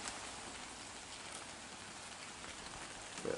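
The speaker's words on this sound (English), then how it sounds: "It's starting to rain on us here now." Rain falling outdoors during a Fourth of July backyard grilling, a soft, steady hiss of drops that stays even throughout with a faint clatter at the end.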